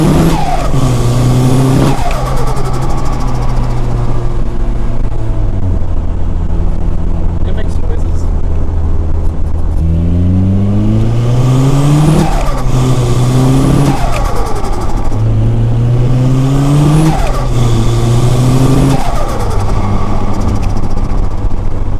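Turbocharged car with a newly installed turbo on a test drive, its engine loud and close, revving up through several gears in repeated rising sweeps with brief drops between shifts.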